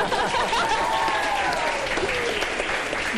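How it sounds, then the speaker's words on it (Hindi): Studio audience at a televised morning show breaks into dense, continuous applause, with a faint voice and some chuckling mixed in beneath the clapping. "ताली बजा।"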